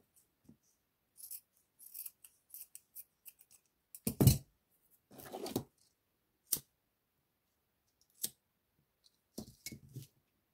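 Scissors snip material while a headband is being covered, giving a scattering of short, quiet, close cuts with pauses between them and no talking.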